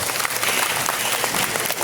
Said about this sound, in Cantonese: 期待嘅俾啲掌聲聽下先